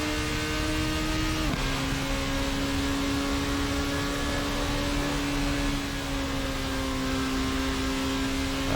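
Formula race car engine in the Assetto Corsa sim, a steady high-pitched whine held near constant with a brief dip as the gear shifts, loud and continuous with no talk.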